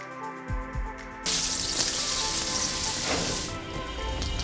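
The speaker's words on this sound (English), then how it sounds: "on a warm summer day, you want to use this outdoor shower" Water bursts from an outdoor shower at a luxury home with a sudden loud hissing spray after a few quiet thuds, running steadily for a couple of seconds before easing off.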